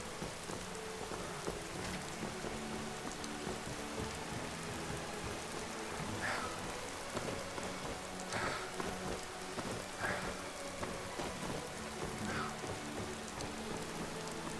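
Steady rain in the Skyrim video game, a dense continuous patter on surfaces with occasional brief sharper drops, heard alone without talk.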